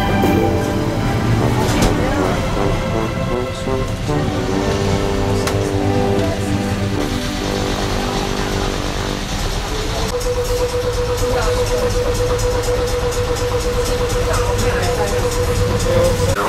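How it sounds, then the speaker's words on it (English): Riding aboard Melbourne's City Circle tram through the city, a steady rumble and rolling rail noise fill the cabin, with a sustained motor whine rising partway through; a voice talks over it. "now we're on the City Circle tram"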